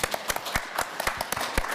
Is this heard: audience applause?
yes